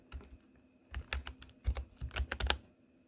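Fingers type on a computer keyboard in quick, uneven bursts of crisp clicks, close and fairly quiet, with short pauses between clusters.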